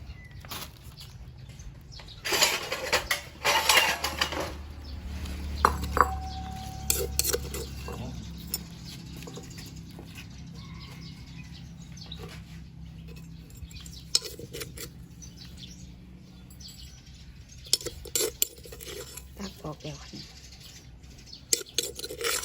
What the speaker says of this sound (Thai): เดี๋ยวเขาก็สิตักออกใส่ถ้วยไว้